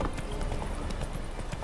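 Horse hooves clip-clopping steadily at a trot in The Witcher 3: Wild Hunt, a continuous rhythmic clatter over a dense, noisy game soundscape, with no speech.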